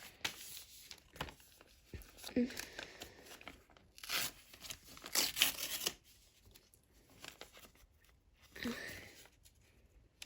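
Paper surprise packets are torn open and crinkled in quick, uneven bursts of ripping and rustling, close up and fairly quiet, with short pauses between tears.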